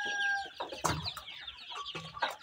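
Local village chickens and month-old chicks cluck and chirp close by. Short, uneven calls overlap, with a few sharper squawks standing out and no one speaking.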